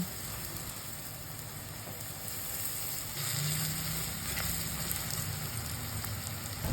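Taro with turmeric powder and salt fries in a pan, making a dense, steady sizzle that swells slightly partway through and carries on without talking.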